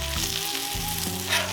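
Hickory smoked bacon frying on a Cuisinart 360° griddle gives a brief steady sizzle, with a low humming tone running underneath.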